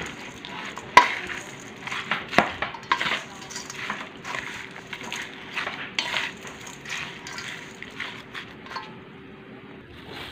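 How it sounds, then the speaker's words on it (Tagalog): A fish and rice mixture for fermented fish is stirred in a metal bowl, with irregular clinks, scrapes and wet squelches close by, plus a sharp knock near the start. "Ngayon, hahaluin ko na po siya. Haluin po natin maigi."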